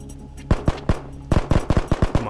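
Rapid bursts of gunfire from a golden SKS rifle in the Ghosts of Tabor video game, a dozen or so sharp, loud shots fired in quick uneven clusters with no talk over them.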